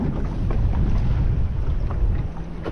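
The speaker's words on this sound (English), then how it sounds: "A little bit of wind though." Steady wind buffeting a fishing boat at sea near tropical islands, a loud continuous low rumble and roar with gusts battering the microphone throughout, no talking.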